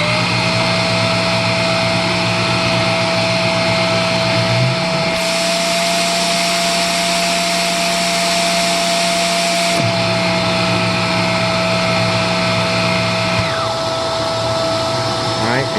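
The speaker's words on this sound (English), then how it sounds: "So let's do suction, and we'll start out with brush roll" Shark NV650W vacuum cleaner running loud and close with the brush roll on, a steady high whine and motor drone that shifts pitch partway through.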